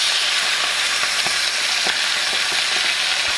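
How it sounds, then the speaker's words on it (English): Turkey skin sears in a hot skillet, giving a steady loud sizzle with faint crackles and pops throughout and no talking. "And I'm going to sear the skin,"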